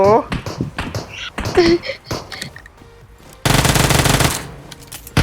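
Gunfire in the PUBG Mobile game: a dense, loud burst of rapid automatic fire near the end, after scattered sharper shots mixed with excited talk.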